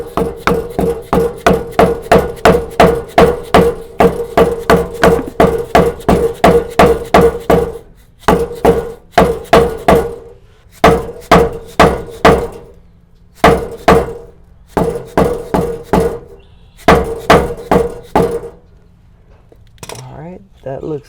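Hammer driving a trailer wheel bearing seal into place, a long run of loud, rapid metallic blows in steady rhythm, then shorter bursts separated by pauses, ending with a brief voice.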